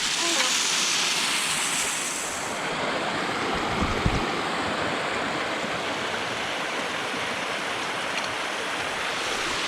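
Meltwater runs hard down a steep forest trail on Vancouver Island, a loud, constant rushing like a small waterfall, with wind buffeting the microphone and no speech.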